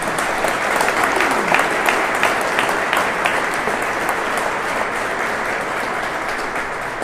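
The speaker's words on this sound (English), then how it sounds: "If you give them a round of applause." Audience applause at a state bill-signing ceremony on combating antisemitism: a dense, steady round of clapping that fills the whole clip at even loudness, with no talking over it.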